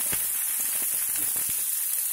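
Ginger, green chillies and onions sizzle in hot oil with tempering spices, a steady hiss with a few faint crackles and no talk.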